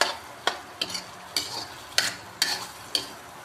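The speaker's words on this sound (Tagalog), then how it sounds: "Igisa ko na siya." Shrimp sauté in a hot pan for ginisang monggo, a steady sizzle broken by regular scraping stirs roughly every half second, close and clear.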